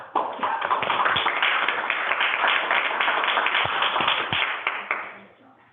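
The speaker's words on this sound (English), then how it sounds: "I can't remember ever hearing applause in this room." Applause in a city council meeting room, a small group clapping steadily for several seconds before tapering off, with some talk mixed in underneath.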